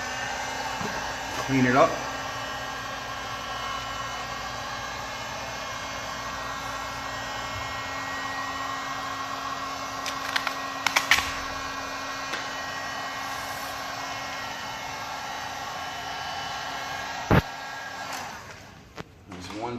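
A heat gun warms vinyl wrap on the face of a car wheel, a steady blowing hum running throughout beneath a short spoken remark and a few light handling clicks.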